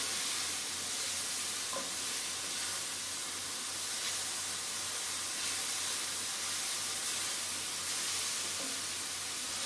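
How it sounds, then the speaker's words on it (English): Mushrooms for risotto sauté in a pan with a constant, even sizzling hiss that carries on unbroken, with only a couple of faint clicks and no voices. "So we're just going to let this saute"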